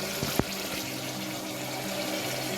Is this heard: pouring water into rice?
yes